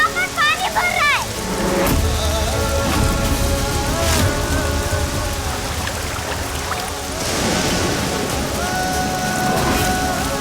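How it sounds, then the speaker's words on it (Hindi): Steady heavy rain pours throughout, with a broad wash of noise and a rumble underneath, while voices and music-like tones sit in the mix. "भाई बारिश हो रही है, यहाँ पर पानी भर रहा है।"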